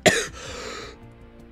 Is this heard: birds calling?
no